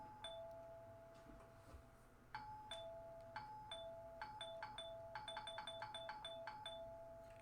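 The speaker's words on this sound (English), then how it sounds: "The persistent ringing continued for a bit, but then finally, thankfully, came to an abrupt halt." A doorbell rings over and over, starting with a few spaced two-tone chimes and then pressing into quick repeated rings, clear and fairly close with no voices.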